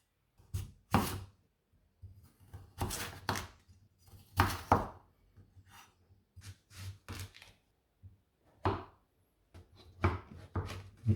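A knife chopping vegetables into small chunks on a board, with quiet, irregular clusters of close knocks separated by short pauses and no talk.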